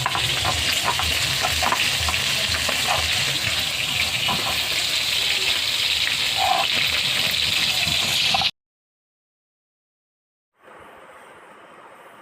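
Bhola fish fries in a pan with a loud, continuous bubbling sizzle that cuts off abruptly, then returns after a short silence noticeably fainter.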